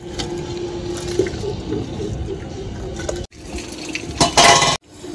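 Clinks of a metal cooking pot and splashing as mung dal goes into hot water for khichuri, with a run of rattling, a short pause, then a louder burst of pouring and scraping, no talk.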